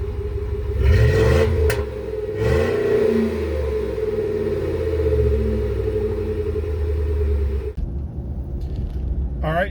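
A car engine revs up close with a loud rising roar and whine, then settles into a steady rumbling idle that cuts off abruptly toward the end.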